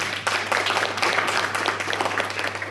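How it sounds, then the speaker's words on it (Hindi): Hearty applause from a gathered audience at a talk or seminar, dense clapping filling the whole short span over a steady low electrical hum. "आप सबके लिए एक बार जोरदार तालियां।"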